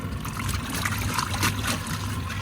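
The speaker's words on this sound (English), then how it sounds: "Here we are washing our clothes, and when it's spinning" A washing machine fitted inside a van runs its spin cycle, giving a steady watery churning and sloshing with a continuous low hum, close and fairly loud throughout.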